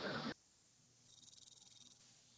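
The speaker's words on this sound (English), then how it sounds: "It sounds like crickets." Crickets chirp in a faint, steady pulsing trill that runs for about a second after a brief burst of other noise, with no talking over it.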